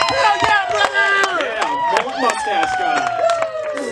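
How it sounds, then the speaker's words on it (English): A comedy-club audience cheers and claps for a stand-up comic with Tourette's syndrome, with sharp scattered claps under whoops and excited voices, loud and close for the whole stretch. "Cheer, clap, make some noise, do whatever."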